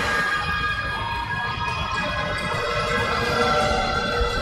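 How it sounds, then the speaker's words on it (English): Loud, continuous crowd cheering and shouting in a gym at a high school senior boys volleyball championship match, a dense roar of young voices holding steady throughout. "A lot of energy from the crowd on the Regi side."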